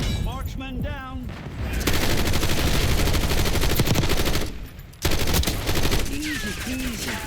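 LMG gunfire in Call of Duty: Black Ops 6, with loud sustained automatic bursts and a short pause, heard under someone talking.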